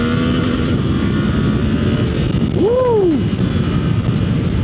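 A Suzuki GSX-8R motorcycle in power mode A with traction control off accelerates under a constant wind-blasted engine drone, its pitch rising and dipping briefly as it revs, heard close and loud.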